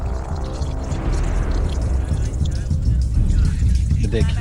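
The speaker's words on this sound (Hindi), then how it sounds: "यहां पीने के पानी वाले हैंडपंप से कीचड़ निकल रहा था।" Muddy water pours steadily from a drinking-water hand pump at a quarantine center, a continuous splashing gush up close, with voices faintly audible in the background.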